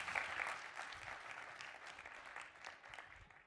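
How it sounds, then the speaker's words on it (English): An audience at a young scientist competition final event claps in a steady round of applause that sounds faint and distant, then slowly tapers off. "Round of applause."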